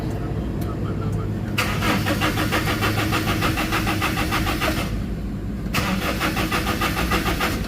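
Toyota Innova with manual transmission cranking but failing to start, the starter motor grinding in long, close, continuous pulsing bursts with a brief pause between attempts while someone talks over it.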